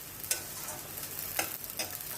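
Chilli chicken pieces sizzle and fry in a pan while being stirred, with a steady crackle broken by a few sharp scraping strokes, close and alone.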